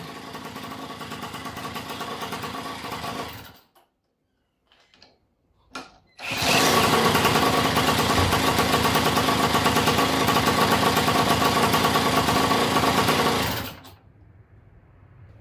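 A moped engine with a worn Polini 43 cylinder buzzes at a high, steady idle, cuts out into near silence with a few sputters, then restarts and runs loud and even for several seconds before stopping.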